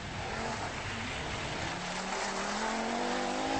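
Rally cars from the 1984 RAC Rally race through the rough Drysdale Forest Complex stage in the Lake District at dawn, engines roaring loudly and steadily up close with a rising rev.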